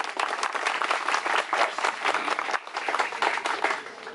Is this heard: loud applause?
yes